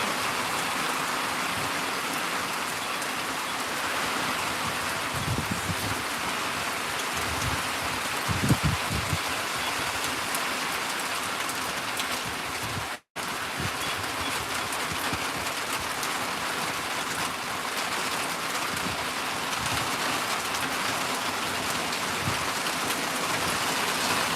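Rain moving in falls as a loud, steady hiss of drops on surfaces, with a few brief knocks partway through and a momentary dropout near the middle.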